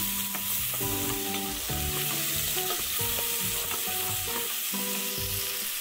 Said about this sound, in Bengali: তেলটা গরম হয়ে গেছে, রসুন কুচিটা দিয়ে দিচ্ছি।